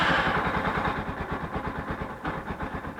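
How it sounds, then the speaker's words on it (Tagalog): A motorcycle engine, freshly filled with new oil after an oil change, idles with a rapid, even, pulsing putter at close range, with no talking. "Then, start natin yung motor para masubukan natin yung bagong langis."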